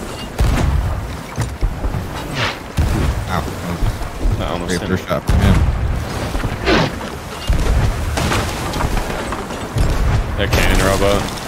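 Cannon fire in a pirate ship video game: repeated heavy booms arrive every second or two amid splashing water and rumble, loud and close, with players talking over the action.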